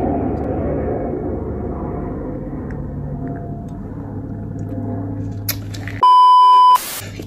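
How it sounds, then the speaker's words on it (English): A large airplane rumbles low and steady as it passes overhead, slowly fading, before a loud electronic beep cuts in near the end. "This big ass plane, chill out."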